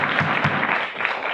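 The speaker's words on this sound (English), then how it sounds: "Another applause." Applause from the audience at a board meeting, a short burst of steady clapping, fairly close and filling the moment.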